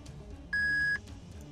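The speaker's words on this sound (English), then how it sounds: "Please leave your message after the beep." A voicemail beep in the Steins;Gate video game: a single clean electronic tone lasting about half a second over quiet background hum.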